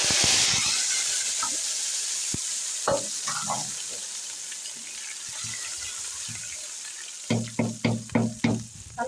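Cumin seeds frying in a pot for mustard greens saag: a steady close sizzle fades over several seconds, with a few scattered stirring clicks, then a run of sharp, rhythmic scraping knocks toward the end.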